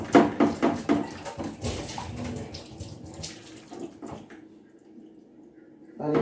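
Water splashes and sloshes as an RO membrane from a Max Pure Vontron 75 GPD purifier is rinsed by hand, a few loud bursts early then quieter swishing and a final splash.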